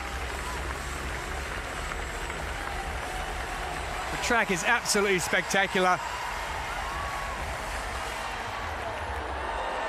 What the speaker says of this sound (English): What a crowd we have in on day 2 of the para-athletics.